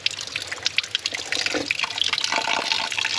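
Water runs and trickles steadily at a mountain spring, close by and fairly faint, with a few splashes and drips as someone drinks.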